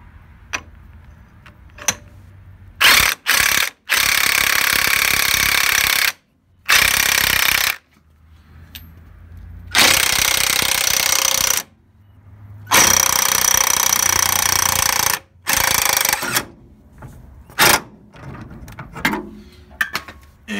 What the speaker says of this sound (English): Hit it with the impact and it'll come right off.